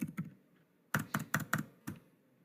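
Typing on a computer keyboard in software accounting training, two quick keystrokes then a steady run of five or six close, crisp clicks with brief pauses between.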